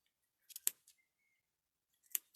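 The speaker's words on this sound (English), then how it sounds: "which I'll try with these scissors, I had trouble kind of cutting" Small scissors snip yarn in two quick bursts, a pair of sharp close cuts followed by a second crisp snip after a short pause, in an otherwise quiet room.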